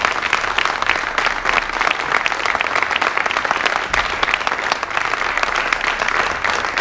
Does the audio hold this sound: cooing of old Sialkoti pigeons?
no